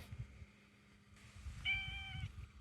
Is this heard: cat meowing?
yes